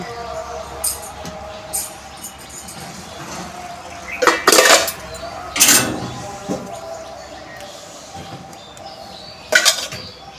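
Freshly made ginger tea being strained into cups, with sharp clinks of a strainer and cups against each other in a few bursts, over quiet room noise and faint birdsong outside.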